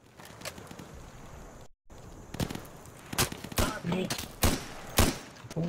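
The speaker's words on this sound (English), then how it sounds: "they're shooting at us." Gunfire in the Insurgency video game crackles in rapid, irregular bursts, sharp shots and short volleys growing denser and louder after a brief gap, with distant and nearer reports mixed together.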